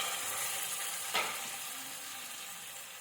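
Peas and bell peppers frying in a pan give off a steady, dense sizzle throughout, with a brief sharper burst near the middle as water hits the hot oil.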